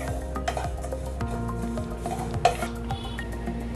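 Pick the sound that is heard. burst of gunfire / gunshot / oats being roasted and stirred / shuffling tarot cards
oats being roasted and stirred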